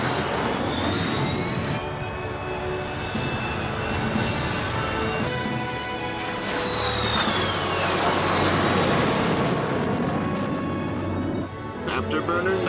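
Avro Arrow jet fighter engine roaring on afterburner in a film scene, a loud sustained broadband jet roar with rising whine tones, mixed with music and brief spoken voices.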